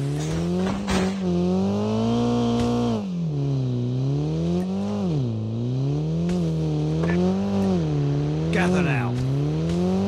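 Vehicle engine in the Call of Duty Mobile game, a loud droning motor whose pitch repeatedly climbs and dips as it revs and slows, with brief sharp bursts of noise at the start and near the end.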